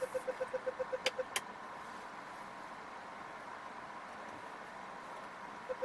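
Quiet cabin of a 2019 Renault Koleos Signature SUV on the move: a low, steady road and engine hum, with a run of soft regular ticks early on and a couple of brief sharper clicks, no talking.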